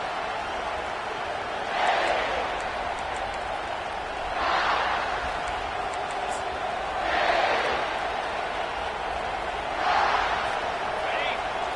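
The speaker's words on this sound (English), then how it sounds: "This crowd trying to show them what it's going to be like all day in this house." A football stadium crowd cheers in repeated swells, roughly every two to three seconds, a broad roaring wash rising and falling under continuous play-by-play commentary.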